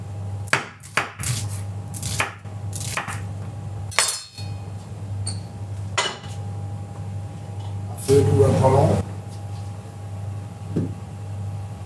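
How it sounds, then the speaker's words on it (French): Onion being finely sliced with a knife, a run of sharp chopping clicks on a board followed by a rougher scraping burst and a few later knocks, over a steady low hum, with a voice heard in places. "On va commencer par émincer l'oignon."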